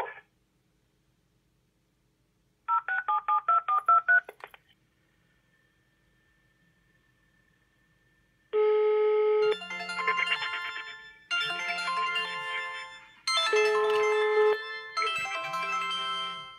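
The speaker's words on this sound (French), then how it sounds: "Maintenant, on va tout simplement appeler mon téléphone" A classic home telephone places a hands-free voice-dialed call: a brief synthetic prompt and a short burst of dialing tones, a faint line hum, then four loud, regular electronic ring bursts with short pauses between them.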